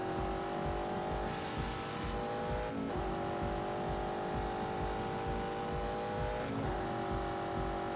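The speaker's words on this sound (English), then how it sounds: "And most of that, to be honest, is because of that V8 engine." A V8-powered car in The Grand Tour video game, driving through Georgia, holds a loud, steady engine drone with brief shifts in pitch as it revs and changes gear, heard alone without talk.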